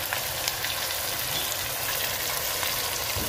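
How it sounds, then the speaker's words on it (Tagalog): Onion, garlic and ginger sizzle steadily in hot oil in a pan for chicken apritada, a dense, close frying hiss throughout with no talk. "nilagay na niya yung onion, garlic at saka ginger."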